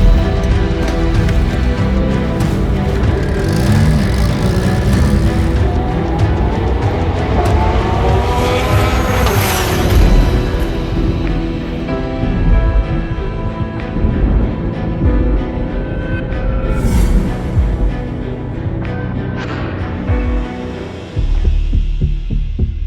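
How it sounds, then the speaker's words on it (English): Porsche 991 GT3R twin-turbo race car, a 1200hp Pikes Peak hill climb build, its engine roaring and droning loudly and steadily throughout, with rising and falling pitch sweeps from shifts and acceleration. "to drive the Porsche 991 GT3R twin turbo that these guys were building"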